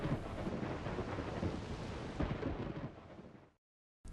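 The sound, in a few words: thunder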